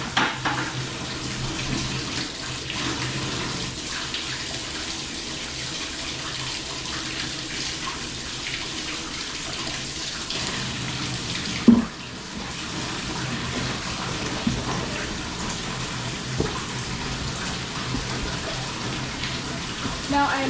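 Hot tap water runs continuously into a sink on a dairy farm, a steady splashing hiss with one brief knock partway through.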